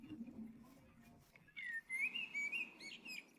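Birds chirp in an animated Bible story about creation, a bright, melodic whistling call rising and sliding in short phrases over a faint low hum, close and clear, with no voices.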